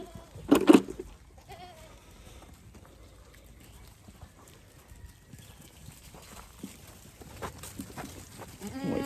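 Goats on a farm, with one loud, close bleat near the start followed by quieter calls, shuffling and light hoof clops from the animals moving about.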